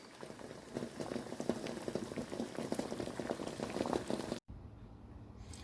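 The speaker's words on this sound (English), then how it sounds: "So let's get this boiling." Water boiling eggs bubbles and crackles at a steady rolling boil, close and continuous, before a brief cut to a quieter bubbling.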